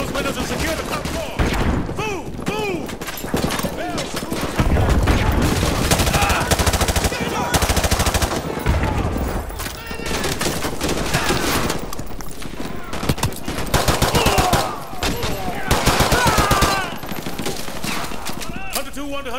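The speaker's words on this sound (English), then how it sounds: "We are taking heavy fire from the school." Heavy automatic gunfire and bursts of rifle fire fill a Call of Duty Modern Warfare 2 Remastered campaign battle, loud and nearly continuous with overlapping shots, while voices shout through the combat.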